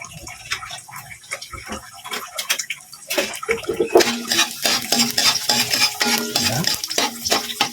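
Garlic hits hot cooking oil in a pan and is stirred, with clinking utensil scrapes against the pan over a sizzling hiss that grows louder partway through.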